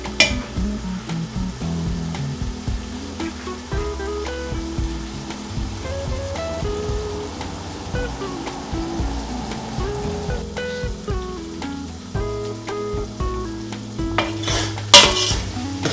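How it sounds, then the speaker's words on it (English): Chopped onions fry in a pan on a gas cooker for a cauliflower and potato curry, sizzling steadily while a utensil scrapes and clatters against the metal as they are stirred. The cooking is heard alone, with no talk. "Giving it a stir every so often so that the onions not sticking and it all getting mixed up and getting an even heat"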